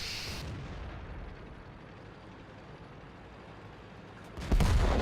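A Leo 1 tank cannon fires in the video game World of Tanks, with a loud, sharp blast at the start and another heavy boom near the end over a low, steady engine rumble.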